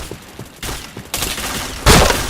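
Automatic weapon fire in the game Point Blank comes in choppy bursts that grow louder, ending in a strong, close volley.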